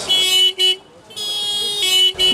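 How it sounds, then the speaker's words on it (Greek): Car horns honking in busy Delhi street traffic, repeated long blasts close by with brief gaps between them, loud over the road noise. "το χέρι τους εδώ το έχουν στην κόρνα, όλη την ώρα"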